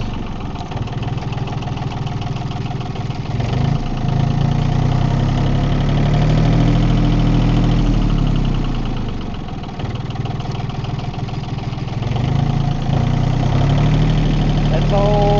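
A John Deere 870 tractor engine running in first gear, a steady low diesel rumble with a knocking throb that swells and eases, close and loud throughout.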